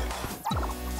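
Cartoonish chicken clucks from a four-player video game: a short squawking call rises mid-clip over steady game music and effects, close and loud.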